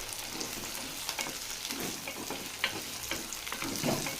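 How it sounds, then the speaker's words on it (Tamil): Brinjal (eggplant) is sautéed in a pan, giving a loud continuous sizzle with stirring scrapes and soft spatula knocks throughout, close up and without speech. "இப்போது இந்த கத்திரிக்காயை நல்லா வதக்கி விட்டுக்கலாம்."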